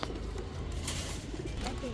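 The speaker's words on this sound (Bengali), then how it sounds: "এই হচ্ছে কালো পুতুল গররা আরেকটা জোড়া" Black putul gorra pigeons, a pair being shown at a Bangladeshi racer and high-flyer pigeon farm, give soft low cooing calls that run on steadily under a noisy background.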